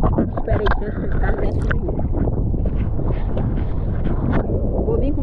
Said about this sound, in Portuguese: sempre tem vento aqui, não fica, é raro ficar sem vento